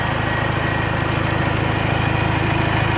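A 2015 Mazda BT-50 turbo diesel pickup idles smoothly and steadily, its low rhythmic engine pulse running close and unbroken, with no voices over it.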